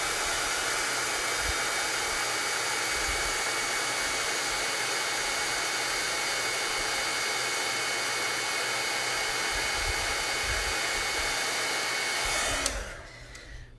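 A heat tool heat-setting embossing powder: a loud, steady close-up blowing roar like a hair dryer, running unbroken for about twelve seconds before switching off and spinning down into quiet.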